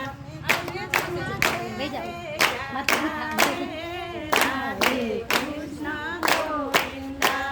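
Hands clapping in a steady rhythm along to a Gujarati devotional Radhe Krishna bhajan, sharp regular claps under the sung melody.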